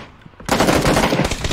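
Automatic gunfire from the battle royale shooter PUBG during a 50 vs 50 match erupts abruptly after a quiet start and keeps up as a loud, dense, continuous burst.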